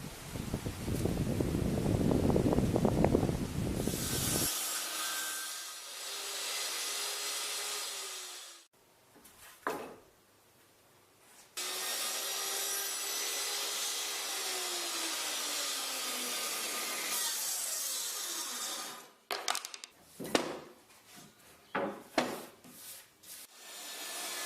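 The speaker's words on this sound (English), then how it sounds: "They can rotate loose while the chainsaw is running." A chainsaw cuts through a wooden board with a steady, droning mechanical whine. The sawing stops briefly partway through, then resumes and ends in a few scattered knocks and handling noises.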